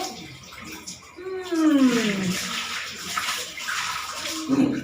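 Water splashing and sloshing during a bath, with gurgling pours and a tub filling, close and fairly quiet, while a person talks and makes sliding vocal sounds over it.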